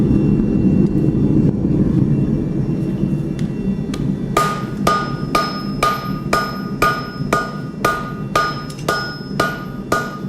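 Forge welding a rasphawk: after a low roaring background, about ten evenly spaced, ringing hammer blows strike hot steel on an anvil, close and loud.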